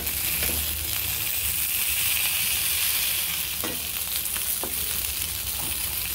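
A wok with a little oil keeps frying food with a dense, close sizzle, while a few short scraping stirs and clinks surface over the hiss.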